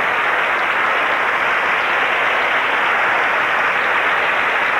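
Steady, loud applause and cheering from a large Miss Universe pageant audience fill the whole stretch, a dense, unbroken wash of clapping with no voices standing out.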